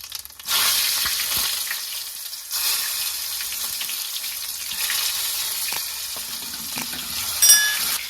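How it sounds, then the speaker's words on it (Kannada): Brinjal dropped into hot oil with crackling mustard seeds and cumin, giving a steady loud sizzle with a few stirring clinks and a brief louder burst near the end, no voices. "ಇವಾಗ ಚಟಪಟ ಅಂತ ಇವಾಗ ಇದೇ ಟೈಮಲ್ಲಿ ನಾನು ಬದನೆಕಾಯಿನ ಕೂಡ ಹಾಕೊಳ್ತೀನಿ"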